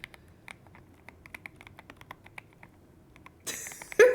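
A soft, creamy-sounding mechanical keyboard is typed on in quick, irregular bursts of muted keystrokes, faint and close, followed by a louder burst of noise at the end.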